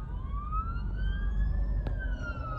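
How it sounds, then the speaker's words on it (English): An ambulance siren wails at a crash scene on a highway, its steady rising and falling tone carried over the low rumble of traffic. "Another ambulance. Two ambulances."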